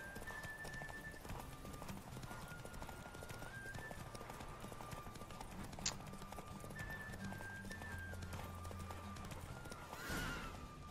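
Horse galloping in a race in The Witcher 3 video game, a continuous rapid clip-clop of hooves at moderate distance over steady game ambience and music, with one sharp clank near the end.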